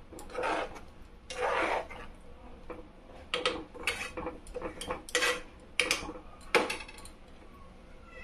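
Metal pan lid clattering onto a cooking pan while paneer curry cooks on a gas stove, a series of sharp clinks and rattles, close and fairly loud, with no talk.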